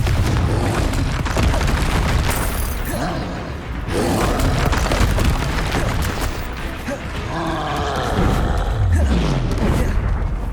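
Confringo fire spells go off during a Hogwarts Legacy battle as loud, dense booms and blasts, one after another, mixed with grunts and clattering combat noise while a voice calls out spells.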